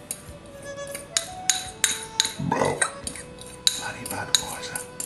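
A spoon clinks and scrapes against a metal pot, stirring nuts, aromatic spices and a garlic-ginger mix into tinned tomatoes, with a series of sharp, close utensil taps at irregular intervals and a soft mushy stir in between.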